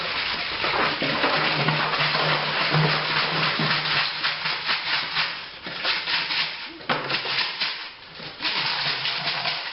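Icy, partly frozen bottles splashed into homebrew wort to cool it for a partial-mash Pilsner, close rushing and sloshing water with rubbing, clunking handling noises and brief pauses.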